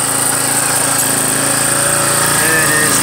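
A 2019 40cc mini bike engine runs without a muffler, a loud, rapid, buzzing rattle that stays steady and close for the whole stretch.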